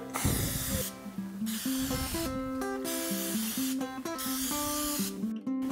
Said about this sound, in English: we're going to spray each one of the tins a little bit